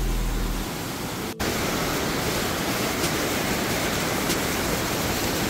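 Waterfall in Casper, Wyoming, a steady loud broadband rush of falling water that fills the whole span, briefly dipping once near the start, with no voices.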